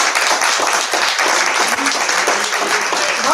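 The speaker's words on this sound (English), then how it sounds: "So if we could give him a round of applause for this" Audience at a school board of education meeting applauding a student, loud, close, continuous clapping that stays full and steady throughout.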